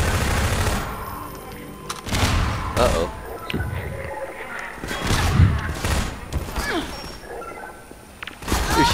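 Gunfire in Half-Life 2 co-op, repeated loud bursts and volleys of shots with thuds and crashes mixed in, played under excited talking.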